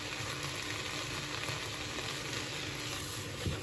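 Spring onion ends sizzling steadily in a hot pan while red lentil dal is being made. A dense, even crackle holds at moderate volume for the whole stretch, with no voices over it.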